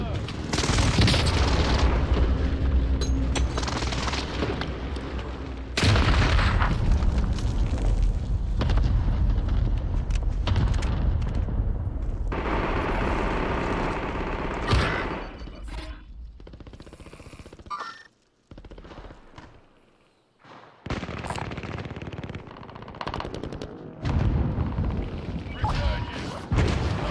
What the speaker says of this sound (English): Enemy precision airstrike. Stay alert. Enemy precision airstrike.